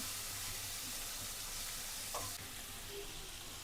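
Cumin seeds hit hot oil for tempering, producing a steady, loud sizzle that holds evenly throughout with a brief stirring scrape partway through.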